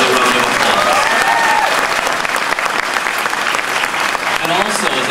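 Loud audience applause at a jazz concert at Yoshi's, dense clapping sustained for the full stretch with scattered cheers and voices mixed in.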